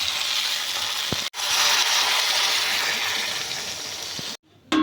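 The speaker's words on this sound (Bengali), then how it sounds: "এবার জল ঢেলে দেব।" Water poured into a pan of fried spice paste for a jackfruit and prawn curry, a loud steady hissing sizzle that runs continuously for several seconds, broken briefly by a short gap and cut off near the end.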